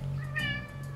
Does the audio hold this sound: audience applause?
no